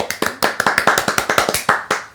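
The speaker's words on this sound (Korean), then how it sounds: "박수!" Group applause after a short chanted cheer, a run of about a dozen sharp, uneven clap bursts from a small crowd, fairly close and loud, with no talking over it.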